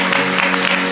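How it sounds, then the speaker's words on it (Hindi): A church congregation claps loudly in thanks, a dense continuous burst of many hands clapping together with a faint voice underneath. "जोर से ताली बजा करके प्रभु को धन्यवाद दे"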